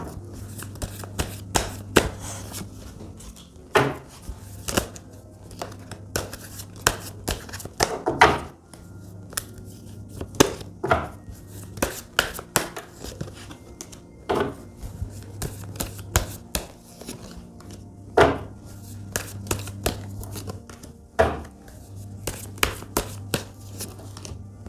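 Tarot cards being shuffled and drawn at close range, with crisp riffles, flicks and papery slaps in irregular bursts over a low steady hum, no talk.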